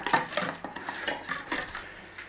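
Oregano, salt, black pepper and oil being mixed into a beef marinade in a bowl, a close run of soft scraping and clinking strokes in a steady rhythm.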